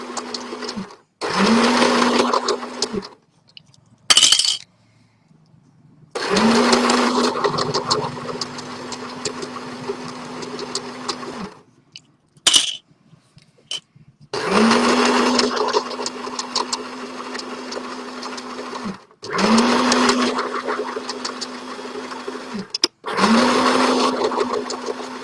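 A sewing machine stitches a tie-dye shopping bag in repeated bursts of fast whirring, several runs of a few seconds each separated by short silences, with a brief clack between runs as it back stitches.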